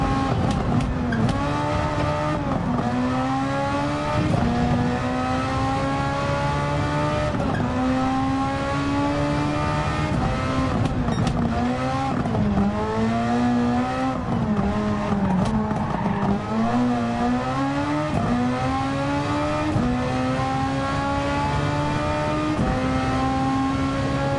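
Race car in Gran Turismo 7 driven through corners under braking, engine note rising and falling steadily through gear changes with occasional tire squeal, loud and continuous throughout.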